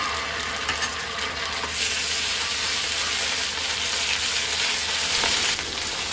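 Onions sizzle in hot oil with ginger garlic paste for chicken biryani, a continuous close hiss of frying with faint stirring and no speech.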